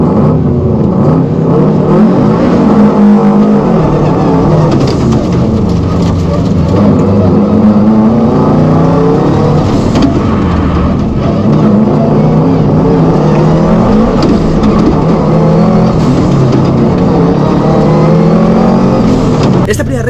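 A race car runs a reconnaissance lap of a slalom course with chicanes, its engine loud and close, revving up and down in repeated rising and falling sweeps throughout.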